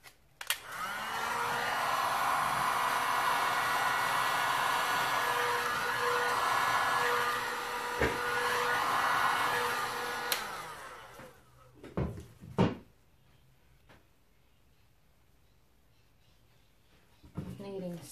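A hair dryer or blower pushes air across wet resin art with metallic shimmer pastes, a steady loud whoosh for about ten seconds that cuts off, followed by a few knocks and handling sounds.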